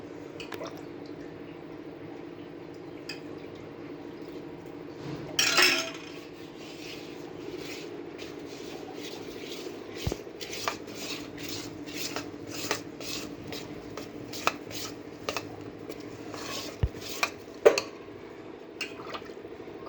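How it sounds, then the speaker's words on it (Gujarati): Gram flour and rice batter for dhokla being stirred in a bowl: soft wet squishing and scraping with sporadic light clinks of a utensil against the vessel, sparse and close. "તો હવે હું આને થોડુંક હલાવી નાખું. ચણાના લોટને ચોખાને મિક્સ કરી લઉં."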